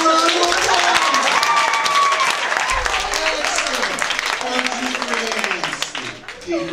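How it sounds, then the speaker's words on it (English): A sorority chapter audience applauds loudly and steadily for one of its members, the clapping filling the room for several seconds with voices mixed in before it thins out toward the end. "Give her a round of applause."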